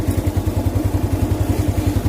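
Small Filipino scooter-type motorcycle, a Yamaha Mio Sporty or Aerox V3 with a freshly refreshed engine, running close by with a steady pulsing mid-low putter and a light clatter, heard alone.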